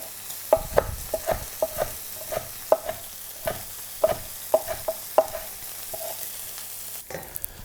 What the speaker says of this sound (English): So now the bacon's done, it's rendered out the majority of its fat.